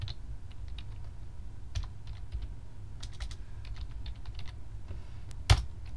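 Cisco router commands being typed on a computer keyboard: a steady run of soft, quick key clicks with a louder keystroke near the end, fairly close and with no talking.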